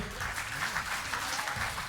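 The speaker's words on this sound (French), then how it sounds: "Allez, on va l'applaudir." Concert audience applauding after a trumpet solo at a community wind band performance, a brief, soft, steady patter of clapping heard from a distance.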